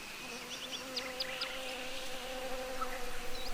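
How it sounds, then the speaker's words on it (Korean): Bees buzz at tomato flowers with a continuous, close droning hum and a layered whine above it, holding steady throughout with a few faint chirps in the background. "이 주파수는 벌이 날갯짓을 할 때 나오는 주파수와 일치합니다."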